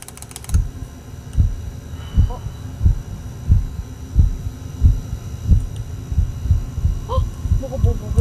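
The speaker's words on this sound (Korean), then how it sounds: "그럼 그 심장박동 소리 찾아가면 따라가면." A regular, low thudding heartbeat pulses throughout a Backrooms horror video game, repeating at an even pace under a faint hum, with a few soft clicks and brief sounds from players.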